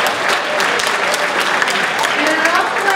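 Audience applause from faculty, staff and students fills the room, a dense, steady wash of clapping that holds for the full three seconds without pause.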